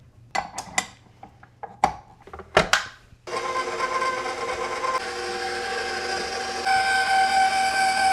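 Stand mixer kneading spinach feta bread dough, switched on after a few scattered knocks and clatters, then a continuous loud motor whine with a rhythmic churn that steps up in intensity near the end.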